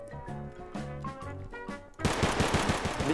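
Garry's Mod DarkRP gunfire erupts after a stretch of tonal game music, a loud rapid burst of automatic shots pounding close for about a second.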